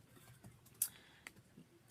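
Light keystrokes on a computer keyboard tap out quietly and unevenly, a few sharper clicks standing out over low room noise, with no talking.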